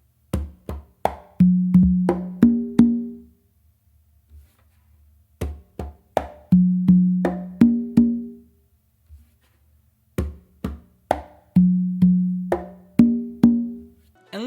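Tumbao pattern on congas, played solo in three repeated phrases: crisp tone and slap strokes followed by ringing open tones, with short pauses between phrases.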